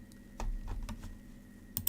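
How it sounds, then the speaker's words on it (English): Keys clatter on a computer keyboard in a quick, uneven burst of clicks, close and fairly quiet over a low steady hum, with a louder double tap at the end. "Just typing."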